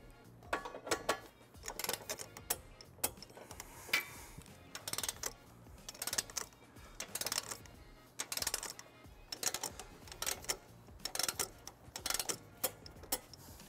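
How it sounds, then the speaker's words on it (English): Repeated ratcheting clicks from a 17 mm socket wrench with a 5-inch extension tightening and torquing trailer hitch bolts on a 2020 GMC Terrain, in close, irregular bursts of rapid ticks with short pauses between them. "Now we're going to tighten and torque all of our bolts to the manufacturer specifications."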